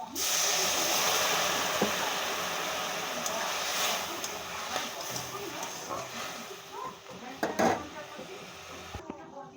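Water poured into a hot pan of lightly fried turmeric sets off a broad, loud hiss that slowly fades, with a few clatters near the end and a voice talking over it.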